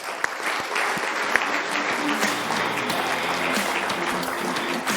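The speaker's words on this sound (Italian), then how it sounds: "perciò gli facciamo l'applauso" Steady applause from a crowd in honour of Gianna, a 105-year-old grandmother, filling the whole stretch evenly at moderate volume with no talk over it.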